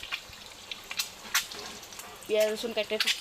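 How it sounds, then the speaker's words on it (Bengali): Eggs sizzle in a frying pan for a Bangladeshi egg bhuna in a home kitchen: a soft, steady frying hiss with occasional small clicks, and someone speaks over it near the end. "এই যে আন্ডা ভাজতেছি, আন্ডা বোনা বানাবো"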